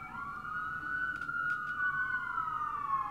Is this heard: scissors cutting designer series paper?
no